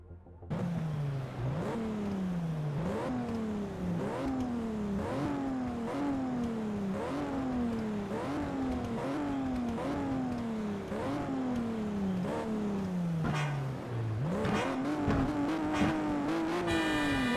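Race car engine in Need for Speed: Shift on PS3, loud and close, climbing through repeated rising rev sweeps with sharp gear-shift drops in a steady sawtooth rhythm, ending in a higher sustained whine.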